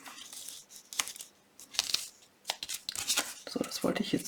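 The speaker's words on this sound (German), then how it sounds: "Hoffentlich ruiniert das meine Schere nicht." Scissors cut through craft material in short, irregular snips and crunches, close to the listener. Someone talks between and over the cuts.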